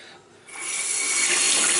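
Hot water gushes from a tap, beginning faint and then becoming a steady, loud rush of running water that fills the rest of the moment with no voices.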